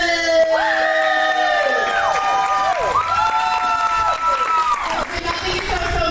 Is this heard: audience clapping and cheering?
yes